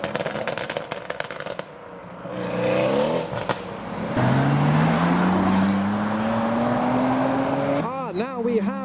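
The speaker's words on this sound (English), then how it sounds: "This next one is the supercharged Lamborghini Huracan." A supercharged Lamborghini Huracan pulls away from a roundabout in a business park, its engine rising in a long climbing whine that grows louder as it accelerates past, with other traffic noise and people talking over it.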